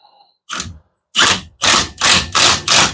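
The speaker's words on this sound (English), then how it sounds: "We're just going to give her a zap with the impacker." An impact wrench tightens a bolt on a car or truck differential: a short first burst, a pause, then a rapid series of five loud, close hammering bursts with no speech.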